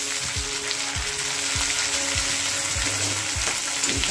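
Tomatoes and onions sauté in a pan for a brinjal and potato dish, giving a dense continuous close sizzle with soft regular low thumps of stirring, no talk.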